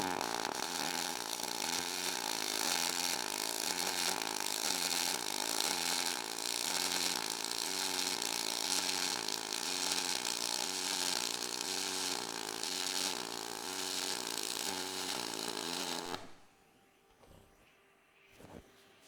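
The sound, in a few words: dual pulse welding run on aluminum, 253DPi welder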